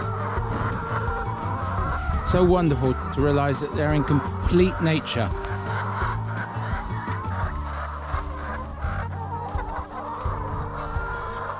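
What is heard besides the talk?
chickens clucking on a farm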